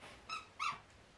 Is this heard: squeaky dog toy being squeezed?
yes